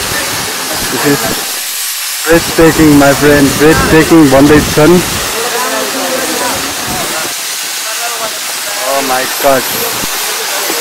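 A waterfall at Ranipauwa in Nuwakot, Nepal roars as a constant close broadband rush, with excited voices talking loudly over it.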